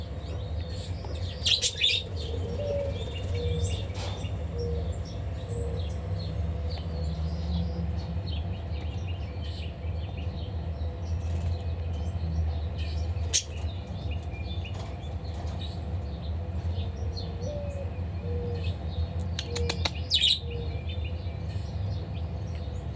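Pet birds chirp and tweet in short scattered calls at moderate distance, with occasional soft wing flaps over a steady low room hum while they play.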